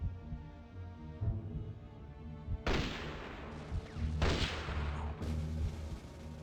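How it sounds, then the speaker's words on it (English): Sniper rifle shots in the Conflict: Desert Storm video game, two sharp broadband blasts a couple of seconds apart over a steady low game soundtrack, fairly loud and close. "we're going to use Foley to pick off all the enemies with a sniper rifle"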